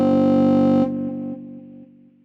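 A synth patch from the Staccato instrument by Artistry Audio plays with only its Core A layer soloed: a sustained, buzzy distorted tone holds steadily, then drops into a series of quieter stepped repeats that fade out.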